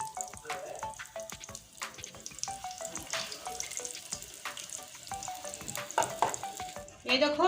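Fish roe pakoras frying in hot oil, a steady close sizzle with stirring clatter and a few sharp bubbling bursts near the end, while a voice speaks briefly over it.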